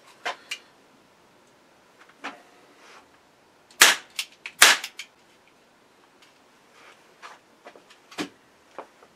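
A toy cap gun being fired: several sharp, close snapping pops spaced irregularly, with a couple of louder double cracks in the middle and fainter clicks of handling between shots.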